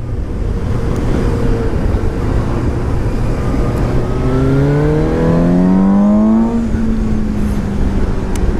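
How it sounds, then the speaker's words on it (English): The engine and intake of a 2017 Suzuki GSX-S750 motorcycle hum loudly and close up, then climb in a smooth rising rev as it accelerates before settling again, with no talking. "I don't think it's the exhaust as much as the engine itself and the intake or whatever"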